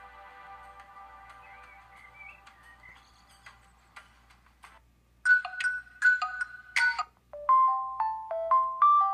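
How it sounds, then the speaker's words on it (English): Original Windows Phone ringtone: a clear electronic melody of plinking, chime-like tones, starting soft and tinkly, then louder with sharp rhythmic notes and stepped tonal phrases toward the end, with no talk. "That's an original Windows Phone sound."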